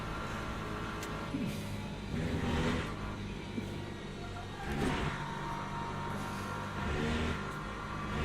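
BMW race car engine in the Le Mans Ultimate racing game during an ELMS championship race, a continuous muffled drone that swells and eases with periodic revving, heard fairly faint and steady.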